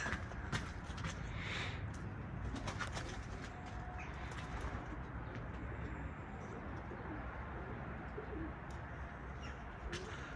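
Pigeons in an office coop with chicks in every nest give soft, repeated coos and occasional chirps, steady and close, over a constant low background hum.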